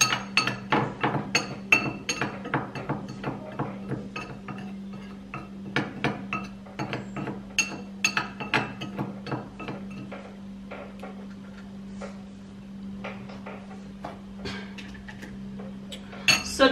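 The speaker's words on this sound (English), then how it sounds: "And then literally mix everything together." Vaseline and cornstarch stirred together in a container, with rapid, steady clinking and tapping of a utensil against the sides, close up over a low constant hum, the rhythm slowing slightly toward the end.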